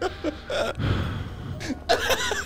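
Heavy, uneasy breathing with gasps and sighs during a horror game session, close and fairly loud, a few sharp inhales and breathy exhales spread across the moment.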